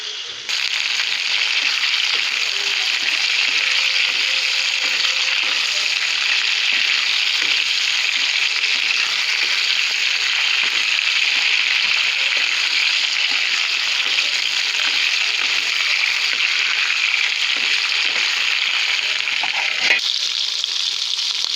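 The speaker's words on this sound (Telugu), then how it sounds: "స్టవ్ మీడియం ఫ్లేమ్లో పెట్టుకొని వీటిని కొంచెం సేపు ఇలా ఫ్రై చేసుకుందాం." Ivy gourds fry in a covered pan over a medium flame, giving a steady, even sizzle that runs unbroken for the whole stretch, with a faint clatter near the end.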